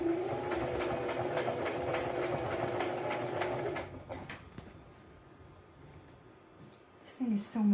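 A sewing machine stitches an apron with a fast, steady mechanical whir for about four seconds, then stops, leaving quieter handling sounds before a person begins speaking.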